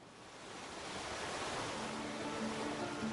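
Pacific Ocean waves as a soft, distant surf wash that swells gently and rolls on evenly, broad and hissing with no voices over it.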